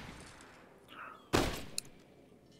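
Gunfire during a team airsoft or paintball-style match, one sharp loud burst followed by a couple of smaller distant pops, with faint voices nearby.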